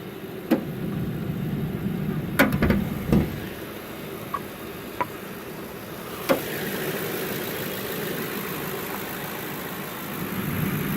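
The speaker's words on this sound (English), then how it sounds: "Good running motor, very good running motor, very strong motor." A 2009 Ford P71 police car engine running at idle, a low steady rumble with a few sharp clicks and taps early on, heard alone without talk.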